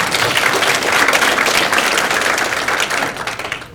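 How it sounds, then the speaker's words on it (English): Dense, loud applause from a crowd at a county youth awards dinner, steady clapping throughout that tapers slightly near the end. "give a round of applause"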